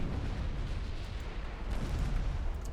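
Battleship guns firing in the naval warfare game Ultimate Admiral Dreadnoughts, heard as a dense, continuous low rumble of heavy booms that roll together without clear gaps, loud throughout.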